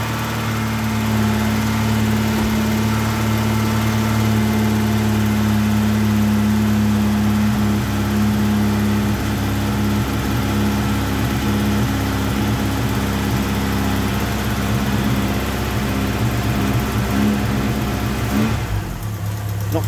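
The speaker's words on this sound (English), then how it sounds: "It's number 4 that's chuffing down here, so I might just start it up so you can hear." A Ford Capri's Pinto engine idles steadily and loud, with a rhythmic chuffing from a leaking exhaust manifold gasket at number 4 cylinder running through it, then a brief blip near the end.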